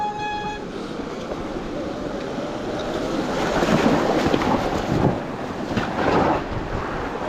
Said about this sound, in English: Water crossing.